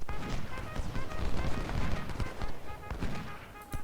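Rapid musket volleys and scattered gunfire crackle through a dense, continuous battle din in a Civil War strategy game, with a voice giving firing orders over the top.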